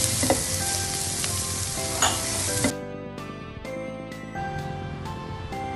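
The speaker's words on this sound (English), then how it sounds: "While our vegetables are stir frying" Loud, steady sizzling of vegetables and paneer stir-frying in a hot pan for Thai red curry, briefly cutting off and then resuming with a few clinks of utensils.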